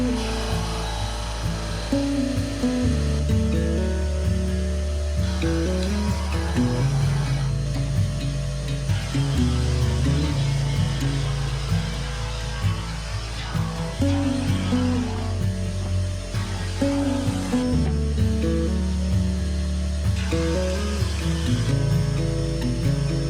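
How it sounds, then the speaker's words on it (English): Drum sander running as walnut and maple segmented rings for a vase pass through it, a steady loud motor whine with a sanding rasp that rises and drops as each piece feeds in. "I passed them all through the drum sander, being careful not to take too much off on the maple side"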